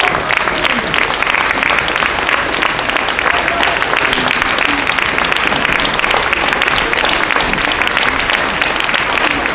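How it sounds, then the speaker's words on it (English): Loud, continuous applause from a large audience at a third and fourth grade school concert, dense and even clapping that holds steady for the full stretch. "you are doing a great job of keeping that applause going"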